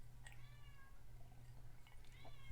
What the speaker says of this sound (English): I've got a cat howling at the door